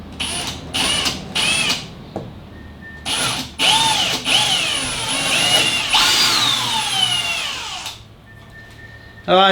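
A power drill runs free in short bursts, then holds a longer whining spin with rising and falling pitch, close and loud inside an SUV during a Dunn and Watson drawer install; a voice speaks briefly.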